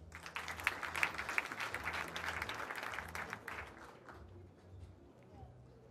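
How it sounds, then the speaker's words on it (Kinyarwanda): Audience applause at a Rwandan wedding celebration, dense clapping from a crowd that swells and then fades away over several seconds, with voices mixed in underneath. "mwongere mwihe amashyi"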